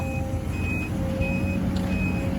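An XCMG heavy truck runs with a steady low engine rumble while a reversing alarm sounds in regular short beeps throughout, fairly close and continuous, with no voices.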